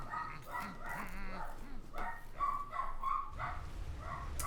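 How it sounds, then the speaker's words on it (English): Small dachshunds bark repeatedly in sharp, yappy bursts from a little distance, with muffled voices murmuring underneath. "Small dachshunds barking in the background."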